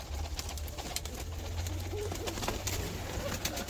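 Black nun pigeons cooing close by in a loft, soft repeated low coos over a steady background rustle and hiss, with no one speaking.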